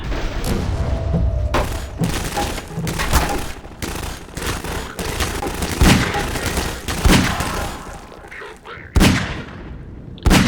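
Tank cannon fire from Half-Life 2 on the Lost Coast map lands as a string of sharp booming blasts with rumbling decay, spaced irregularly and loud throughout the stretch.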